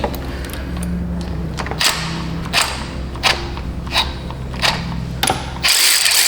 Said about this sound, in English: We'll grab perhaps what is the most useless cordless tool ever, the cordless ratchet